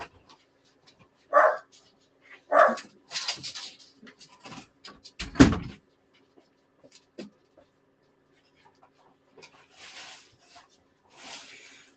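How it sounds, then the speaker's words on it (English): A door closing during an online meeting, with a loud thump and a few scattered knocks and rustles among quiet gaps. "let me close the door"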